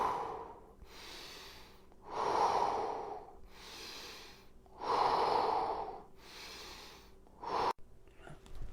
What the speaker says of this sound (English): So exhale as you go into it.